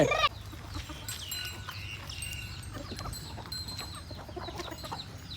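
Chickens cluck and chatter continuously nearby, with scattered short calls over a low background rumble; no one talks.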